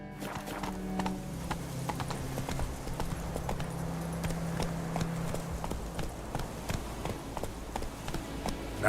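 The Witcher 3 horse Roach runs at a fast, steady gallop, with quick evenly spaced hoofbeats and a low whinny near the start, over a soft ambient game backdrop.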